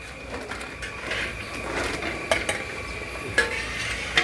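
Fried rice being cooked in a large pan for a party feast, with steady scraping and stirring against the metal, faint sizzling underneath, and a few sharp clanks of the spatula.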